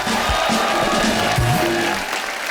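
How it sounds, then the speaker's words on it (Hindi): Applause from an audience fills the clip, a steady wash of clapping with voices mixed in, loud and continuous before easing slightly at the end. "जोरदार तालियां हो जाए।"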